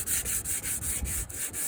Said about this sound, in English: It is sanding, and it's a little gummy.